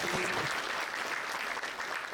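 Audience applause at a student meet-and-greet event with coaches, a steady dense clapping wash lasting the whole moment, moderately loud and unbroken.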